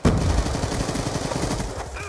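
Rapid automatic gunfire from a Call of Duty Black Ops 2 match, a fast even stream of loud close shots rattling without pause, with a faint voice briefly underneath.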